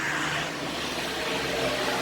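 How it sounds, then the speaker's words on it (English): A gas truck drives past on a street in Trinidad, a steady, broad engine roar and hiss that holds at an even level throughout, close and fairly loud, with no voices. "Anytime you hear that noise, it's a gas truck."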